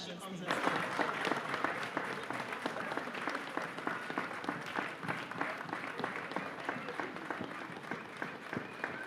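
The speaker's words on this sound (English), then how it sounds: "A round of applause as she comes on stage." A live-stream audience applauds steadily as a trainee from Uganda who makes sustainable bags from bananas walks on stage, dense clapping filling the room from start to end with no pauses.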